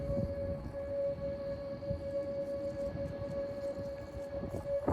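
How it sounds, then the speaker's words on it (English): A tornado warning siren wails as one steady, sustained tone, heard from a distance over a rough, rumbling outdoor background with no talking. "That siren that you hear, that's the tornado warning."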